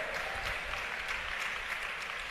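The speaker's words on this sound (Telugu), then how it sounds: "చప్పట్లు కొట్టి దేవుని స్తుతించండి." A church congregation claps together in sustained, dense applause that fills the whole stretch at an even, steady loudness, with no voices standing out.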